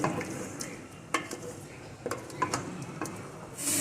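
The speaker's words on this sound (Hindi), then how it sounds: "आँच तेज़ करके भुनाई करनी है हमने इसकी" Chicken sautéing over high heat in a pot, a soft sizzle under scattered clinks and scrapes of a spoon stirring against metal, close by, with a brief hiss swelling at the end.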